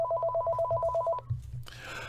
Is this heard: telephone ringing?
yes